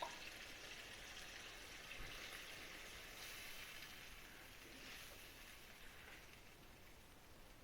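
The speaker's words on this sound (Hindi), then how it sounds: "ये 1 गिलास हम इसमें पानी डाल रहे हैं" A glass of water, some of it chickpea boiling water, poured into a pot of chicken and chickpea curry, giving a steady splashing rush that continues evenly for several seconds with no talk.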